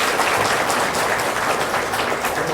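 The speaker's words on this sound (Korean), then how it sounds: "박수로 축하와 축복해 주십시오." A church congregation applauds after a baptism ceremony, a dense, steady wash of many hands clapping together at full volume.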